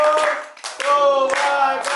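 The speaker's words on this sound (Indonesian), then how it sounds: "Tepuk tangan semuanya." Everyone in a design practice class claps, brief bursts of hand claps broken by short gaps, with a tonal hum and a voice running underneath.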